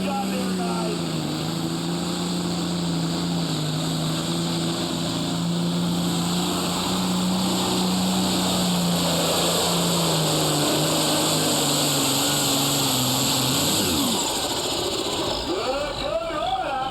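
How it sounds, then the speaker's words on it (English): A turbocharged John Deere tractor roars through a super stock tractor pull at a county fair, a loud sustained engine drone with a steady pitch that drops and then climbs sharply again near the end. "Can you imagine how much fire was down inside that turbocharged engine?"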